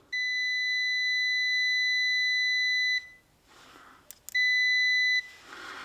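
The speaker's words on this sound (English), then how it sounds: "That should be a continuity buzzer." A Kaiweets KM601s smart multimeter's continuity buzzer gives a long, steady high-pitched beep, breaks off briefly amid faint handling clicks, then beeps again for about a second, close and clear.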